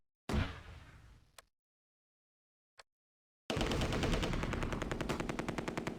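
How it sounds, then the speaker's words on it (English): Gunfire in the Close Combat: A Bridge Too Far war game arrives as a loud burst, then silence broken by two faint clicks, then a sustained rapid machine-gun rattle. "We're under heavy fire."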